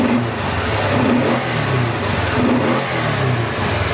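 A fuel-injected V-twin engine on a 2016 Kawasaki Teryx4 LE side-by-side runs close by, loud and steady, with rhythmic revving swells over a low idle throb and no talking.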